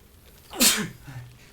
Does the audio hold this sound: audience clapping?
no